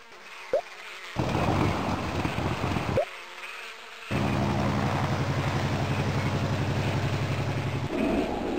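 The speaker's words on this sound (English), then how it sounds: "A beehive is the home for busy bees making honey" Bees buzzing around a beehive in the Buzzy the Knowledge Bug farm game, a steady droning hum that rises after a short quiet start and holds close and loud, with a brief chime-like blip early on.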